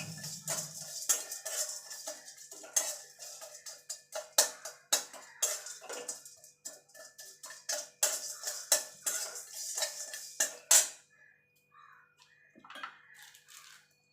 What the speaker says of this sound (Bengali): এবার এইগুলো সব একসঙ্গে একটুখানি ভাজা ভাজা করে নেব।